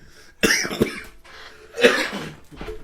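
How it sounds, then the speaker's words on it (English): Two sharp, close coughs a second or so apart, followed by a softer throaty sound. "Wow, this made me cough."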